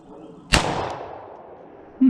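A single sharp .357 Magnum handgun shot fired in a bullet penetration test, a loud crack with a long decaying tail, followed by a faint thump near the end.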